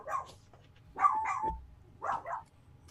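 Dogs bark in several bursts, close and fairly loud, with short pauses between them and a low steady hum underneath.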